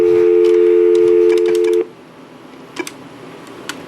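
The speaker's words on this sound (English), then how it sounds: "So I'm going to try dialing out." Touch-tone dialing on a Nortel Norstar 616 key telephone system: a steady dial tone cuts off into a quick series of sharp DTMF beeps, then a few scattered tones over quiet line noise.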